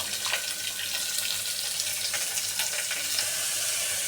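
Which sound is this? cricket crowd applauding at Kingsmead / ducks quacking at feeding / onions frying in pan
onions frying in pan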